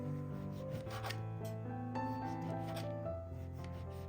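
A knife slices through rolled-up samosa sheet dough in a string of short, soft, close scraping cuts with small pauses between them.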